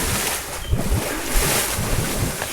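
Churning floodwater gurgles and rushes loudly and close, with blustery wind buffeting the microphone throughout, during heavy river flooding in Minnesota or Iowa.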